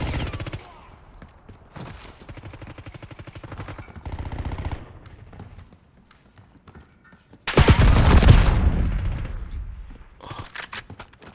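Rapid bursts of automatic gunfire from a gun in the Call of Duty video game, with short volleys early on and a loud, dense burst near the end.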